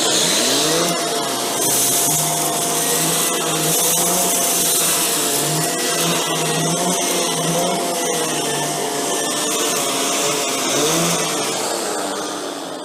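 Shark Stratos vacuum with a suction-driven turbo wheel spinning its brush roll, run over debris on medium pile carpet: a steady, loud motor whine and airflow roar holds throughout, fading slightly at the end.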